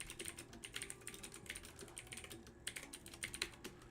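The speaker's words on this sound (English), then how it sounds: "I'm just kind of typing some stuff up for myself" Steady typing on a computer keyboard in a home lab setup: a dense, continuous patter of close key clicks with small bursts and brief pauses, and no voices.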